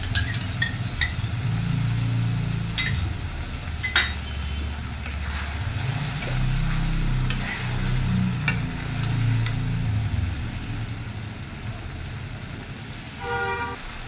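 Spices and onions sautéing for egg rezala, with a loud steady sizzle and repeated stirring scrapes in the pan, close by, and a brief horn-like toot from outside near the end.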